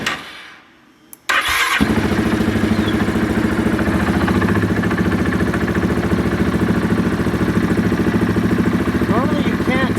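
A Grizzly 700 ATV engine fitted with big tires catches after a quiet moment and settles into a steady, loud, close idle with a rhythmic mechanical clatter running continuously to the end.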